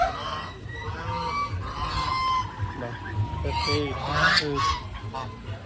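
Turkeys call nearby in repeated, honking gobbles that overlap one another, with other poultry clucking in the background.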